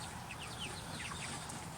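Young growing chickens, one of them a possible rooster, cluck and peep faintly in a soft, steady stream of overlapping calls with no talking.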